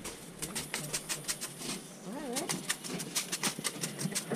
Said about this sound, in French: Mais ils sont bêtes, les pigeons.